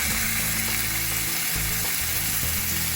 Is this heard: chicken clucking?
no